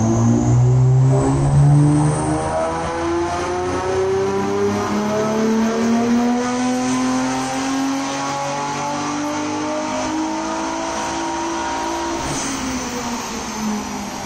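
Nissan GT-R R35 engine revving hard on a dyno, a loud sustained roar with rising and falling harmonic tones, steady and close throughout with no talk.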